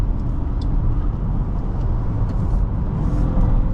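A 2023 VW Atlas SE V6 on the move, heard from inside the cabin as a steady, dense low rumble of engine and road noise with no gaps.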